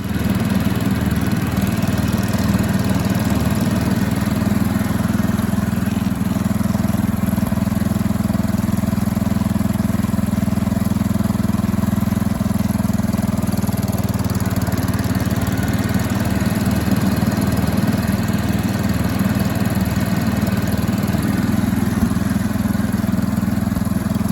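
A Powerking lawn tractor's engine runs steadily at a constant loud drone for the whole stretch, close by and unvarying, with no voices.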